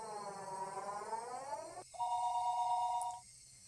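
In the Higurashi visual novel, a telephone rings after a number is dialed: a warbling trill fades out, then a steady electronic ringback tone sounds for about a second and a half, clear and alone.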